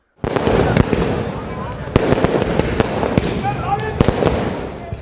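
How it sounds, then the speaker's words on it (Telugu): Rapid crackling firecrackers burst continuously with sharp pops and bangs at a celebration rally in Andhra Pradesh, a dense loud barrage over a background of crowd noise. "టపాసులు కాల్చి సంబరాలు చేసుకున్నారు"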